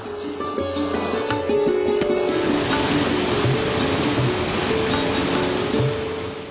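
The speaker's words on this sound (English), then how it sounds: "the mighty Narmada lapping gently against the banks and producing this magnificent sound" Water of the Narmada river at the Sardar Sarovar dam lapping against the banks, a loud, steady broadband wash with no breaks and no voices.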